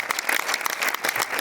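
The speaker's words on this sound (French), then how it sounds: "je voudrais qu'on applaudisse très très fort et qu'on les accueille" Audience applause greeting guests at a Cannes film presentation, brisk and fairly close, a short burst of many hands clapping.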